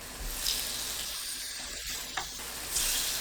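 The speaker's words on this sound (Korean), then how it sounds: "식용유 두르고 팬을 예열합니다. 반죽을 올려주세요." Burdock and buckwheat pancake batter fries in an oiled pan with a soft, steady sizzle, broken by a few brief louder spits and crackles.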